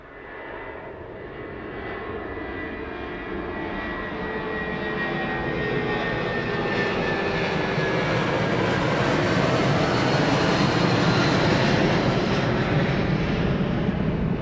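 A large airliner taxiing at night at East Midlands Airport, its engines a broad steady roar that slowly swells and grows louder over the whole stretch, with a faint high whine riding on top and no voices.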